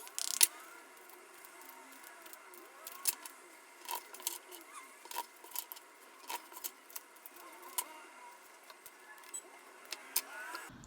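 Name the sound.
shuffling tarot cards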